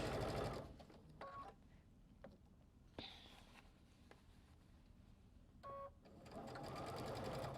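Sewing machine stitching fabric in short bursts, a quiet rapid mechanical whirr at the start and end with faint clicks and handling noises between, nearby in a quiet room.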